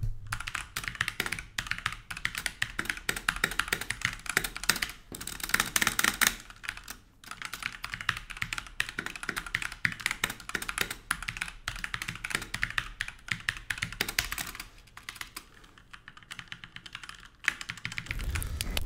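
Continuous fast typing on an XPG Adata Mage mechanical keyboard with red switches, a dense, steady stream of soft, close key clicks and taps with no talking.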